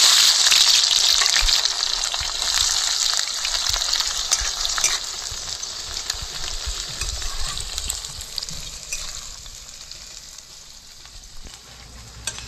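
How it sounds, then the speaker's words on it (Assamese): Chopped onions hit hot oil in a home kitchen while a duck meat dish is cooked, giving a loud, steady broadband sizzle that fades slightly over time, with no talking. "কাটি থোৱা পিঁয়াজখিনি মই গৰম তেলত দিম"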